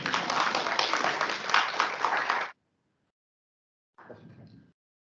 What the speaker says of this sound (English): And if you want to clap, you can clap.